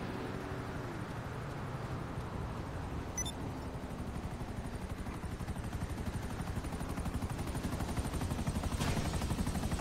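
A video game helicopter gives a steady, low rotor drone that runs throughout at a faint level, with a few brief sharp sounds of game effects over it.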